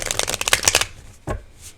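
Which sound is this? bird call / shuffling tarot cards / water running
shuffling tarot cards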